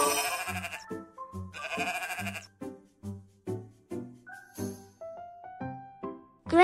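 Repeated sheep bleats, a few loud wavering cries followed by a string of shorter bleats of varied pitch, close and clear.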